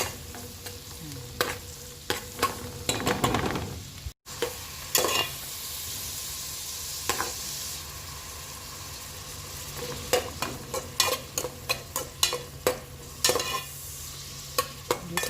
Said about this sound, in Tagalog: Haluin ng haluin.